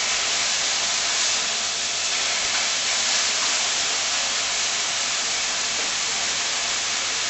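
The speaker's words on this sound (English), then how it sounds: "just give them a couple of seconds on each side just to get a slight golden brown colouring to them, because you're really just sealing them" Pork chops sear in a hot pan for a quick golden browning, giving a steady, loud, broadband sizzling hiss that holds without break for the whole stretch, with no voices.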